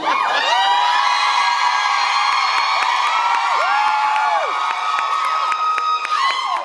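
Convention crowd at a Supernatural fan panel in Denver cheering, whooping and screaming continuously, loud and dense with high-pitched shrieks throughout.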